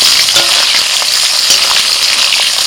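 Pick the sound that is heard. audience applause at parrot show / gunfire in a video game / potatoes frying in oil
potatoes frying in oil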